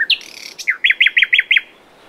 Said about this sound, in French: Il a donc été remplacé par des chants d'oiseaux.